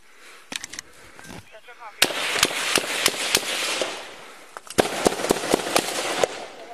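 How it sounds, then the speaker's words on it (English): Gunfire during a deadly police shootout recorded on a body camera, a string of sharp cracking shots in two clusters, some close and some more distant, with a voice heard briefly between them. "there's this new body camera footage that's been released by Big Island Police that shows a deadly shootout in Wainaku over the weekend"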